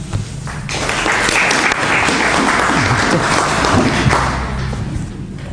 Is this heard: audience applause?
yes